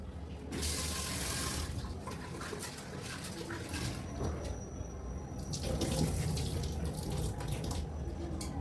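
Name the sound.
washing lentils under running tap water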